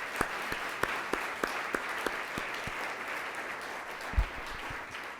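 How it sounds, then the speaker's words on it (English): Applause from the audience at a community conversation on the consequences of redlining, a moderate wash of clapping with several sharper nearby claps standing out, fairly quiet and steady. "One more round of applause for them"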